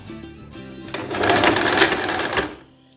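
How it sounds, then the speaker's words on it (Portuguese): A sewing machine runs a zigzag stitch along a dress seam, a steady mechanical whirr rising in the middle and tapering off near the end, close and fairly loud with no talk. "Tô costurando no ponto de zigue-zague."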